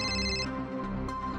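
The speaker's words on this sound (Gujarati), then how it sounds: "કેદારનો ફોન છે." A mobile phone ringtone plays loud and close in a Gujarati TV drama scene. It is a brief, continuous melodic ring that changes tone partway through.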